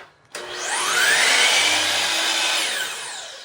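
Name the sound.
power saw cutting wood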